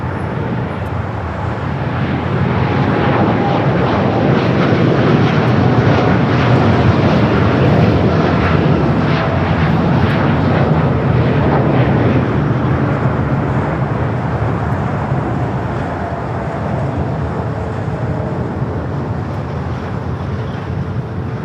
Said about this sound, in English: Our United Dreamliner now rolling down the 25 right